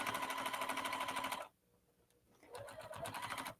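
A sewing machine stitches a quilt seam, running in a steady fast whir for about a second and a half, pausing briefly, then running again in a short back-stitching burst, close and clear.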